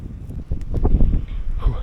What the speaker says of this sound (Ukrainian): Вітер розгулявся не на шутку.